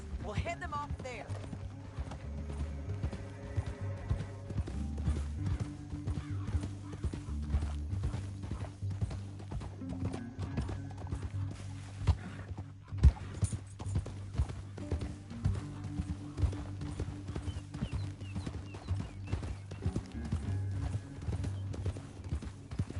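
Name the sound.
horses galloping, hooves clip-clopping, in Red Dead Redemption 2 video game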